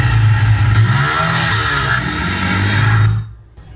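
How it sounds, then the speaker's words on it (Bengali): A loud, close motorbike engine revs and roars steadily as it passes, then cuts off abruptly after about three seconds, used as a cinematic sound effect. "এখানে আবার একটা বাইকের সাউন্ড পিছন থেকে একটা দিয়ে দিই"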